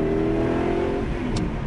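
A Lamborghini Jalpa with a 255-horsepower engine revs hard under full acceleration, a loud, steady, throaty roar held close by for the whole stretch.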